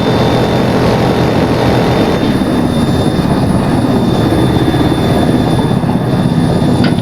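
A helicopter in the military game ArmA 3 produces a loud, steady rotor and engine roar that stays close and constant throughout, with no talk over it.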